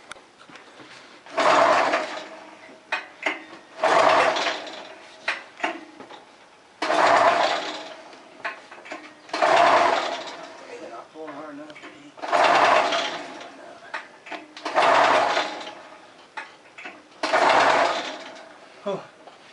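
A Polaris dragster engine is pull-started again and again, each pull a rising mechanical whir that dies away without catching. The pulls come at regular intervals, about every two and a half seconds, with people talking in between.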